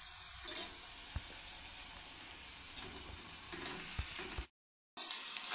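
Onions sautéing with ginger, garlic and chili paste in oil for zunka, a continuous soft sizzle with a few light stirring taps, close but moderate, briefly dropping out near the end.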